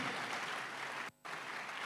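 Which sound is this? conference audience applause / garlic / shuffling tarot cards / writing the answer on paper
conference audience applause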